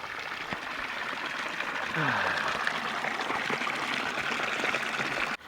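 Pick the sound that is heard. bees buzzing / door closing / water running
water running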